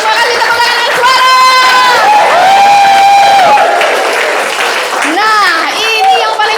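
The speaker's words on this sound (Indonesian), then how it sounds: "kasih tepuk tangan dulu untuk kita semua." A crowd of staff at an office meeting applauds loudly, with cheering and excited shouting voices layered over the clapping throughout.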